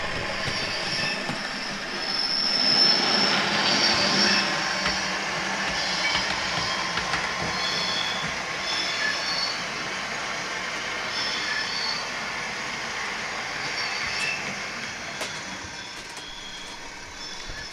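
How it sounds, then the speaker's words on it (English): A Class 37 locomotive hauling a mixed freight train pulls out of a passing loop at a station, giving a steady distant rumble of diesel and rolling wagons with high wheel squeal, heard alone throughout. "In the background, a Class 37 hauling mixed freight pulls out of the passing loop,"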